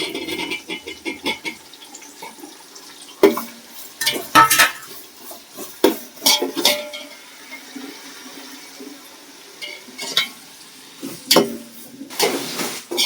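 Tomatoes tipped into a pot of fried onions for egg biryani and stirred with a metal spoon: a run of sharp clinks and scrapes against the pot, clustered in bursts over a low kitchen background, with no talk.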